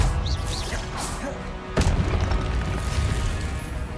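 Spell-casting combat in the Hogwarts Legacy video game on Xbox, a dense barrage of booming impacts and whooshing magical effects with a sharp crash near the middle, loud and continuous.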